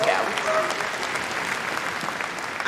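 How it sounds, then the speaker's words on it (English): An arena crowd at the Crufts 2019 dog show applauds a search and rescue dog demonstration, with a dense, steady burst of clapping from many hands throughout. "She can have a round of applause."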